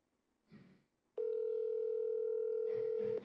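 A steady telephone dial tone sounds loud and unbroken for about two seconds after a short burst of faint noise, as a call is placed.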